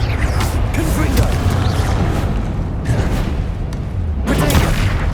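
The Confringo explosive spell in Hogwarts Legacy bursts in loud booms among continuous rumbling combat noise, with a voice calling out spell names.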